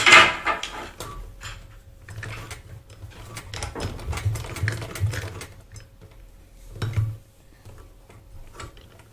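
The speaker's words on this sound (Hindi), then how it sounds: "दो से 3 मरतबा इस पर हम मशीन चला देंगे" A sewing machine stitches a fabric bowl cover, running in short close bursts of rapid mechanical ticking with brief pauses between passes and a low motor hum underneath, fairly quiet and without talk.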